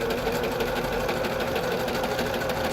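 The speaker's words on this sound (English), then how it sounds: "Serging that notch off." A serger sewing machine runs in a steady, fast mechanical whir as it trims a notch off a pajama top sleeve, close and continuous with no talking.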